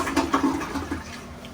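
A fancy modern toilet flushes with a short burst of rushing, gurgling water that quickly fades to a quieter trickle indoors, with no talking.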